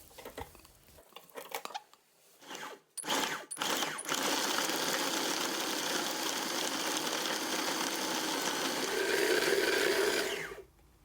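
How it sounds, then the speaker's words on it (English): A food processor grinding pork for prawn and pork meatballs runs loud and steady for about seven seconds, after a few short bursts and knocks at the start, then stops. "let's get back to our pork by placing them in the food processor to be grinded"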